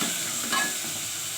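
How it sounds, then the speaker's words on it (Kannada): Tomatoes fry in oil for a pulao, a close, constant sizzle with one short stirring swell in the middle. "ನೆಕ್ಸ್ಟ್ ನಾನು ಟೊಮೊಟೊ ಹಾಕ್ತಾ ಇದ್ದೀನಿ ರೀ ಟೊಮೊಟೊ ಹಾಕಿ ಫ್ರೈ"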